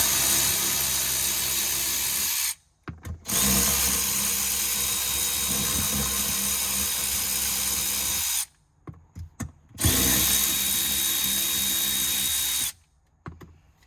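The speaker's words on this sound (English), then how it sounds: "we need to remove these three 8 millimeter bolts" A power tool driving out 8 millimeter seat bolts in a Chevy ZR2 diesel truck, a loud sustained whirring drill in three long bursts separated by short pauses, close up with no talking.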